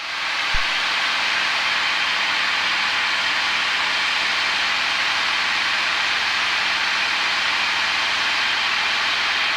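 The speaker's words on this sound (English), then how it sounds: "He's flying the plane." Steady, loud broadband drone of a Cessna light aircraft's engine and propeller filling the cabin in flight over the Rainbow Valley practice area, continuous and even throughout with no talk.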